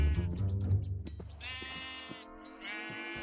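Sheep bleat in the Minecraft video game, several nasal, wavering bleats in quick succession, with a lower bleat at the start followed by two clear, higher calls, loud and close with no talk over them.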